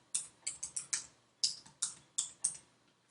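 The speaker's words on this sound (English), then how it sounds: "I'm just going to type my title" Crisp keystrokes on a computer keyboard as a title is typed, about nine sharp clicks in two quick bursts separated by a short pause, close and clear with no voices.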